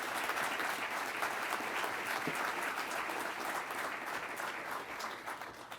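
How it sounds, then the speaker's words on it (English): Steady, dense applause from an audience at an Air Force undergraduate pilot training graduation, clapping for the instructor pilots, sustained and even throughout with no speech. "If we could give them a round of applause, I'd appreciate it."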